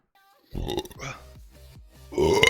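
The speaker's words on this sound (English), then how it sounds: "Sorry, I'm burping." A person burps during a World of Warcraft Battle for Azeroth livestream, with a deep, loud eructation that rumbles for about a second, then a second guttural burp swelling near the end.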